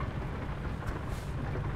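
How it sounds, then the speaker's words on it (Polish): Rain falls in the American Truck Simulator driving game, a soft, constant wash of rain noise with low rumble that stays even and fairly quiet, with no voices. "Pada deszczyk, słoneczko."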